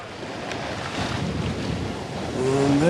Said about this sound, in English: 12 to 13 knots of wind, and we're pushing along at 6 to 8.